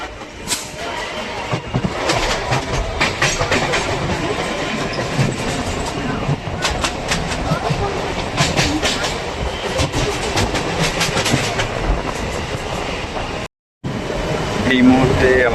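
A Barasat to Bangaon local train rolling on rails near Duttapukur station, heard from inside with a loud continuous rumble and repeated clickety-clack wheel beats, briefly cutting out near the end.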